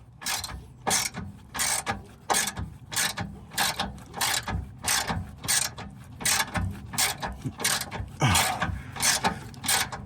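A ratchet working loose the stiff sway bar bracket bolts on a Honda Civic, loud close rapid clicking bursts repeating in a steady back-and-forth rhythm with short pauses between strokes.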